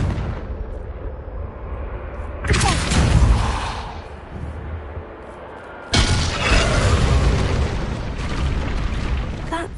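Blasting spell explosion in Hogwarts Legacy, two loud booming bursts a few seconds apart, each followed by a sustained rumbling, crackling tail.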